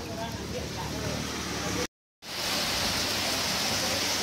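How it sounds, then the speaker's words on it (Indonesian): Rain falls in a continuous, dense hiss, close and steady, cut by a brief moment of silence midway before resuming just as strongly. "Hujan."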